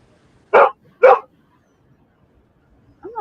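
A dog barks twice in quick succession, close and loud, then gives a short whimper or yip after a pause, in an otherwise quiet room.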